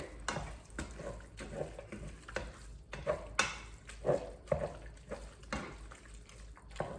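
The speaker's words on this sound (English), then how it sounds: "I'm just going to go back over here and stir this hamburger again." Hamburger meat frying in a cast iron pan is stirred with a utensil, giving soft scrapes and light sizzling in uneven bursts, moderately close and fairly quiet, with no talking.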